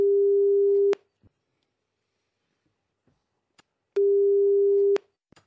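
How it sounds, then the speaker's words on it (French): Telephone ringback tone on a French radio comedy show as a listener is called: two steady one-second tones about three seconds apart, clean and prominent, with faint clicks between and no talk. "on va appeler Gilles Frendo"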